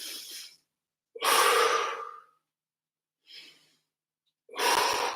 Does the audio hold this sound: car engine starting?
no